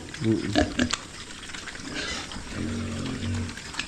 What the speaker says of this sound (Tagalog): Pagkagaganda po ng baboy ni nanay